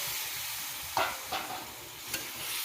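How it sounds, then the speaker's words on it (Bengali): Dal and boiled amaranth going into already-fried spices for a Bengali dal and lalmi curry, giving a steady soft sizzle with three brief scraping stirs, close and fairly quiet, no voices. "এবার এতে দিয়ে দিব ডাল আর এই লালমি সেদ্ধ করাটা।"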